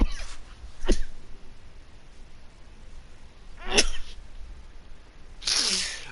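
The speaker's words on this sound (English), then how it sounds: "I have to sneeze." A person with hay fever sneezes three times, spaced a few seconds apart. The sneezes are sharp and close, the last one the loudest and breathiest, with quiet gaps between them.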